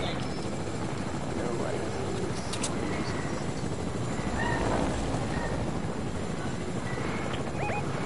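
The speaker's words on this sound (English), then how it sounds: "What are we doing in this helicopter in the first place?" Video game helicopter droning steadily in flight, a constant rotor-and-engine wash filling the whole stretch while players chatter over it.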